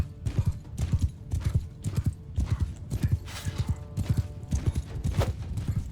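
Horse hooves galloping in the video game Mount & Blade 2: Bannerlord, a quick, steady clip-clop rhythm close by, with occasional neighs and faint battle noise behind.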